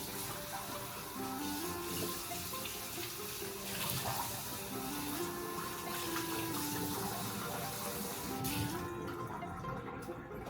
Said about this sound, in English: Rinse our measuring cup out.